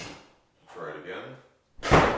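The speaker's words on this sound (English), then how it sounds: "Now I'm trying to slam the door." A door is slammed during a test of a 1980s Clapper sound-activated switch, a sharp, fairly close thud after a short spoken phrase, standing alone at the end.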